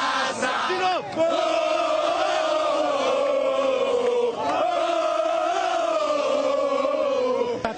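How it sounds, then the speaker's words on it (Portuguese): Cruzeiro football fans at Mineirão stadium singing a loud, sustained massed chant with a repeating melodic phrase and swelling roars, the whole crowd close and full. "Mineirão em festa, cruzeirenses eufóricos"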